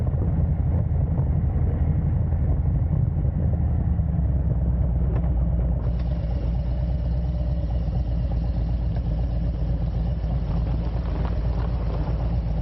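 A motorcycle riding along a dusty dirt road with big rocks, its engine giving a steady, loud, low rumble that continues without a break throughout.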